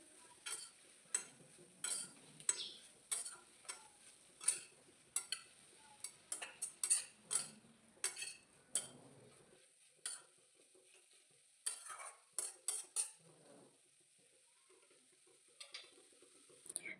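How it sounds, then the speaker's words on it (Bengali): Fried bitter gourd being stirred into spice masala in a pan, a soft background sizzle punctuated by a series of sharp spoon scrapes and taps against the metal, some in quick bursts with quieter gaps between. "এবার উচ্ছের সাথে মশলাটা খুব ভালো করে মিশিয়ে নিতে হবে।"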